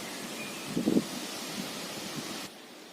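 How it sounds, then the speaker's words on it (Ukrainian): Soft, steady wind blowing through a forest near Stepanivka, Khmelnytskyi region, Ukraine, a broad airy hiss with a brief rustle of leaves, quiet and without voices. "Такий вітер дує."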